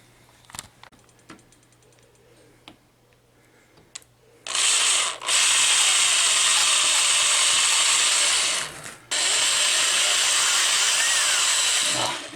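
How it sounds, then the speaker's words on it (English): A power drill bores out rivets on a Warrior arcade game speaker: a few faint clicks and taps, then two loud, sustained whining drill runs separated by a brief pause. "I'm going to have to drill out these rivets in order to change the speaker."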